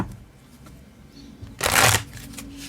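A short, loud burst of shuffling a tarot deck, a riffling flutter lasting under half a second, close by against a quiet background.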